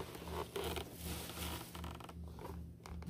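A NASCAR diecast car, the Kyle Larson Cincinnati Incorporated model, being unwrapped from plastic packaging, giving close, continuous crinkling and rustling with small scratchy bursts over about three seconds and no talk.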